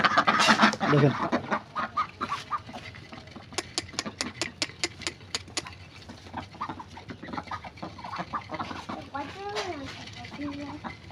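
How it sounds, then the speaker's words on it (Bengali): Ducks peck and dabble at feed in quick bursts of sharp clicks, with clucking and quacking calls nearby and a brief voice. "দেখেন হাঁসগুলোকে খাবার দিয়ে দিছি।"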